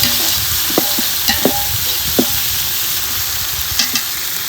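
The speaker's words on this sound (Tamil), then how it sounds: "தக்காளியை சேர்த்துக்கலாம். நல்லா கலந்து விட்டுக்கலாம்." Tomatoes frying in a pan for village-style chicken biryani give a loud, constant sizzle, with several sharp scrapes and clinks of a spoon stirring, no voices.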